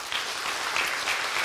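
Church congregation applauding elders at a New Year's Eve service, a steady, full burst of clapping throughout with no voices.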